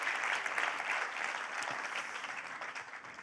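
A church congregation claps together in a dense, steady burst of applause that gradually tapers off, heard without speech.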